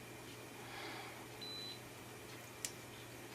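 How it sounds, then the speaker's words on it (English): A 35 W electronic load with an OLED display gives a short, thin electronic beep as its counters reset, faint over a steady hum of background noise. "it beeps and resets the counters"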